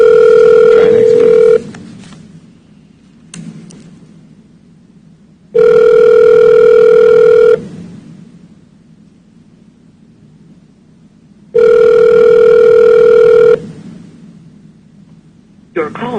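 Ringback tone of an outgoing telephone call during a county commission meeting: three loud, long steady rings spaced about four seconds apart, with quiet line hiss between them.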